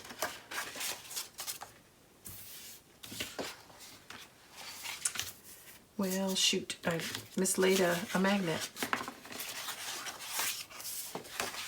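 Rustling and clattering of small craft supplies being moved and sorted nearby while making a mini album, with a person talking over the handling sounds.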